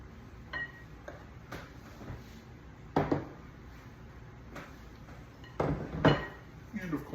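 Two sugars being added to a butter and egg mixture in a bowl for brownies: soft pouring and scraping with several clinks of a utensil and glass against the bowl, moderately close, with no talking.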